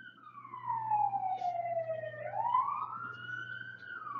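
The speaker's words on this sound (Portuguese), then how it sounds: "E a ambulância passa." An ambulance siren wails with a smooth, sliding tone that dips and then rises again as the vehicle passes, steady and fairly close, with no voices.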